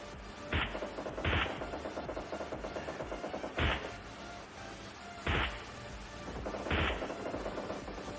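Five sharp video game gunshots ring out at irregular intervals over a steady background hum, loud and punchy with short decays.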